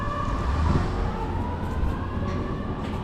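A siren wails steadily near Niagara Falls, a sustained tone at moderate distance over low background rumble, with no voices.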